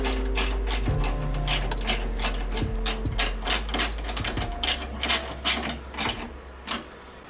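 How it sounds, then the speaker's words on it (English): Ratchet tightening two 10 mm bolts holding the hood strut bracket on a Subaru BRZ, Scion FR-S or Toyota GT86, heard up close as fast repeated clicking strokes with a few thumps, growing louder toward the end. "just put the two 10 mil bolts right back in their original location"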